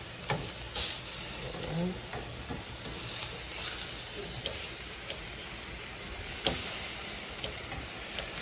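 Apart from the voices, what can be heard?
meat searing in a frying pan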